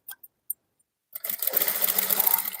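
After a few faint clicks and a short pause, a sewing machine starts up nearby and stitches a cross belt in a quick, steady run of rapid needle strokes.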